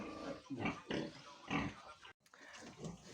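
Several soft, close grunts from newborn piglets in short bursts, with brief pauses between them and a moment of silence near the end.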